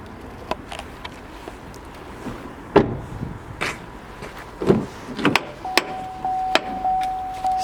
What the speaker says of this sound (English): here we have the electric windows and mirrors